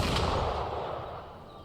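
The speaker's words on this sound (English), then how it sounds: "Gunfire! We've got intruders." Gunfire in the video game Wuthering Waves, a loud blast that fades into a long rumbling decay over under two seconds, with no talking.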